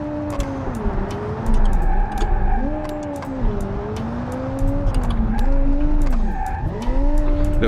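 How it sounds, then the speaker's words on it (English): A car in BeamNG.drive on a Pikes Peak mod slides under a tap of the handbrake, its tires skidding and scrubbing while the engine revs rise and fall in steady, loud sweeps throughout. "Little tap of the handbrake."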